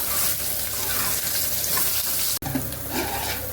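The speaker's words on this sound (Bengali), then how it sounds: "দেখুন জলটা ফুটে গেছে" Water coming to a boil in a pot while jackfruit fries nearby for a jackfruit biryani, a steady close bubbling and hissing texture running throughout with a brief dip near the end.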